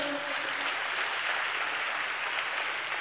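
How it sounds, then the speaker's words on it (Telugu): Applause from a church congregation at a Telugu sermon, a steady dense wash of many hands clapping at moderate level through the whole stretch, a brief voice at the very start. "చప్పట్లు కొడుతూ స్తోత్రాలు చెప్దాం"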